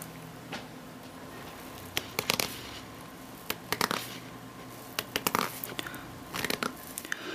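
Close, soft scratchy rubbing of a natural sponge, coming in irregular bursts of rough friction over a quiet background.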